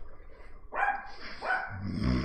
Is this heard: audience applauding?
no